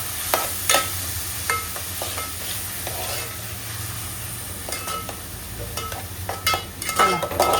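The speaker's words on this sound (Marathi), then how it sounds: "मस्त आपल्याला कांदा चांगला परतून घ्यायचा आहे बघा छान." Onions sautéing in a pan for an Agri-style crab curry, with steady low sizzling and repeated scraping stir strokes, fairly close and moderate in level, no talking.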